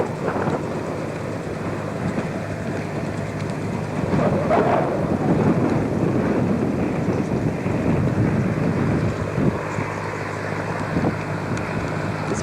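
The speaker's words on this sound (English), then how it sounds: "The noise that you can hear is a desalination plant" A desalination plant on the Western Australian coast runs with a steady, loud, broadband mechanical roar and drone, continuous and unchanging throughout, with no voices.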